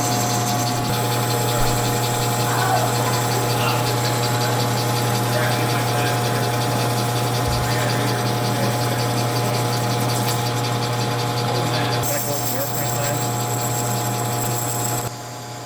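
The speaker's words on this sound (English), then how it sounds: "you're gonna just grind the whole thing down" Steady power-tool grinding on the metal clutch hub of a 1949 Indian Scout motorcycle, a continuous loud whine with a constant low hum running through the whole stretch, briefly easing near the end.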